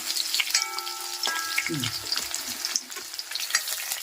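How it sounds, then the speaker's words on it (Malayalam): Curry leaves dropped into hot oil for a Kerala taro curry tempering, a crackling, spattering sizzle up close with quick pops and a stirring scrape, and no speech. "ഇനി നമ്മുടെ കറിവേപ്പില ഇട്ട് കൊടുക്കാം."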